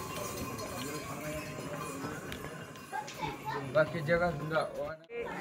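Horse hooves clop steadily beneath a busy crowd on the Vaishno Devi pilgrimage route, with people and children talking nearby throughout.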